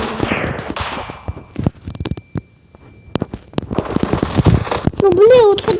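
Rapid bursts of sharp gunshots crack and pop in uneven volleys in the video game Standoff 2, with a brief quieter gap in the middle and a rising whine near the end.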